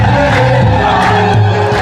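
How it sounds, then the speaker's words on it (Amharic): Congregation at an Ethiopian Orthodox gospel song night ululating and clapping: loud, sustained high trilling voices layered over crowd noise, swelling in waves close by. "እልልታ ጭብጨባችሁን ከፍ አድርጉ እስኪ"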